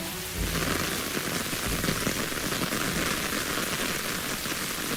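Heavy rain pours steadily in a dramatic scene from a Hindi-dubbed South Indian film, a dense, unbroken hiss of drops that stays loud throughout with no voices.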